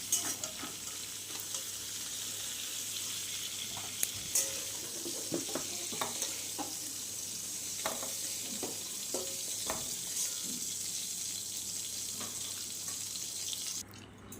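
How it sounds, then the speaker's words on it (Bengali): Pointed gourd slices frying in oil in a kadai with salt, a steady close sizzle running throughout, marked by repeated stirring scrapes and clinks, with no talk. "দিয়ে পটলগুলোকে একদম লাল লাল করে আমরা ভেজে নেব।"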